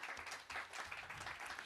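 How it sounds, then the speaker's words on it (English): Brief, soft audience applause at a Unity church Sunday service welcoming first-time visitors, a steady wash of clapping heard at a distance for under two seconds. "Round of applause for our first timers."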